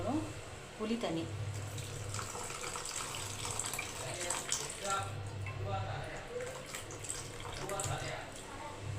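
Tap water runs steadily into a pot while fish curry is prepared in a home kitchen, a continuous splashing flow beneath a low background hum.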